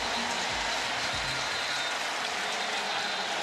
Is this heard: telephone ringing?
no